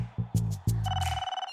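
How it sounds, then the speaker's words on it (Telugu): A telephone rings in a Telugu comedy film scene, a few sharp electronic trills followed by a steady ringtone tone that warbles and fades, clear and close with no talking. "ఫోన్ కొట్టు"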